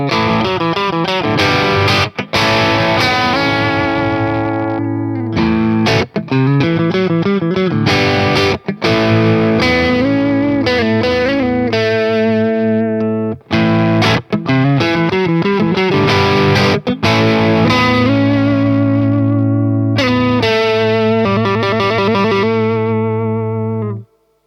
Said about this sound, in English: That might get interesting when we add some gain to the source. Let's do that now with the Marshall Governor.